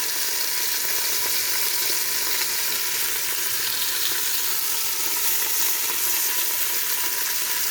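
A chuck pot roast sears in a Ninja Foodi pressure cooker, giving a loud, steady close-up sizzle and crackle of hot fat that holds constant throughout, with no voices.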